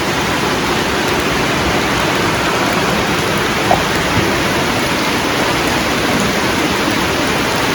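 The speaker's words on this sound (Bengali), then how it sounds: "বৃষ্টি" Steady rain falls in a dense, even hiss that fills the whole stretch, loud and continuous, with no voices.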